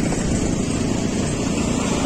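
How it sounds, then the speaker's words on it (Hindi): Strong wind roars across a mountain road in Mustang, Nepal, buffeting a motorcycle rider. The microphone catches a constant loud rushing blast that never lets up and carries no speech. "इतने तेज हवा आ रहा है"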